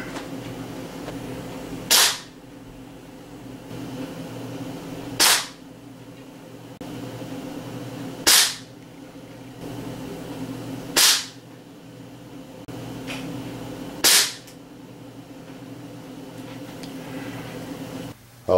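Five sharp air rifle shots, a Crosman MK-177, fired from a rest at 10 yards with a red dot sight, each a crisp snap spaced about three seconds apart over a steady low hum.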